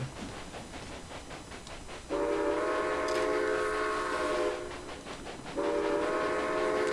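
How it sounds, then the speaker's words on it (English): Train whistle in the Railway Empire video game, sounding two long sustained blasts, one from about two to four and a half seconds and another from five and a half seconds on, over a steady rumbling rail background with no talk. "I like the fact that you can control the whistles in this."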